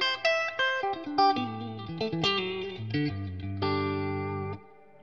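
Clean electric guitar plays a short descending run then rings out a sustained chord, with a roomy reverb tail washing around the notes.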